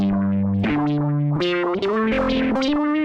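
A sequencer effect from a Raspberry Pi guitar effects pedalboard: stepped, pulsing synth-like guitar tones jump between pitches, heavily effected with distortion and chorus, loud and continuous.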